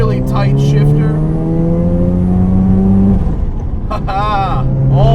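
Modified 400+ hp Mazda RX-7 FD with a two-rotor 13B rotary engine revs hard and high, a loud, sustained buzzing climb that drops off briefly and then surges again, with people talking over it near the end.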